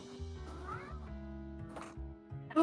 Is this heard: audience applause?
no